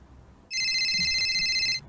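A mobile phone rings with a bright electronic ringtone that starts abruptly, holds steady for just over a second, and then cuts off, fairly loud against a quiet room.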